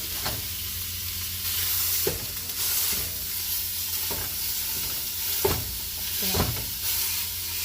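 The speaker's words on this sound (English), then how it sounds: "my pan is getting really hot right now, so I'm going to add this meat into it." Ground meat sizzles in a hot pan, a steady close frying hiss broken by repeated clicks and scrapes of a utensil stirring and breaking it up, with no talking.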